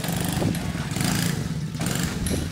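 A mini quad bike engine runs close by, loud and continuous, with a buzzing, slightly uneven drone that swells and eases, and no voices over it.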